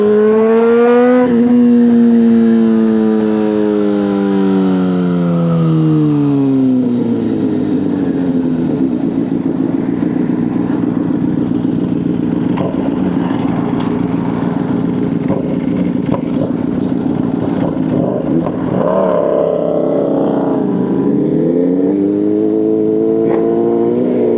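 Motorcycle engines at a bike meet roar loud and close, revving with rising and falling pitch sweeps over a steady droning idle.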